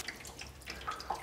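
Hot tap water runs over a greasy stove hood filter being rinsed in a sink, a soft, steady splashing hiss with a few brighter drips and spatters, fairly quiet and close, with no talking.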